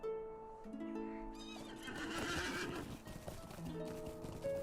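A horse neighs in the online game The Lord of the Rings Online, with clip-clop hoofbeats, over a steady, tonal game music bed; the whinny is loud and close, peaking in the middle.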